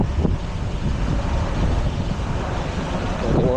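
Strong typhoon wind blowing outdoors along a street while commuters walk home, a close, continuous roar with microphone buffeting that swells at the start and end.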